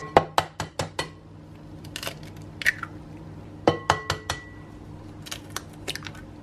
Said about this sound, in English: And crack in 2 eggs.